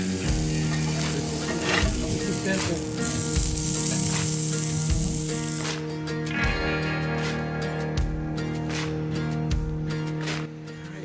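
Small sausages fry in a pan with a loud, continuous crackling sizzle and sharp spitting pops throughout, heard up close with no talking.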